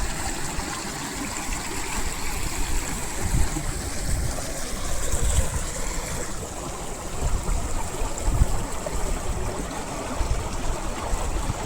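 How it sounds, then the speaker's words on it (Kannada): Water from the Sahasradhara falls near Maheshwar, Madhya Pradesh, pours over rocks in a continuous, full rushing wash that stays steady and close throughout. "ಇದ್ರ ಮೇಲೆಲ್ಲ ನೀರು ಹರಿದು ಬರ್ತಾ ಇರ್ತದೆ"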